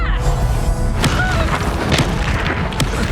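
A Bombarda blasting spell explodes in Hogwarts Legacy, giving a loud, deep boom with crashing debris and a few sharp hits trailing off over a rumbling background.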